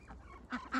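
A drake duck gives two short, raspy honking calls close by, a soft meep-like note followed by two quick, louder squawks over quiet background.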